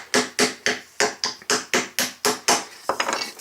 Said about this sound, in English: So I'm going to use my little hammer